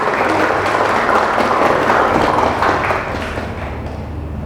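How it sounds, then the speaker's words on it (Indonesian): Audience applause at a theater production, a burst of clapping that holds steady for a few seconds and then thins out toward the end. "Oke, tepuk tangan."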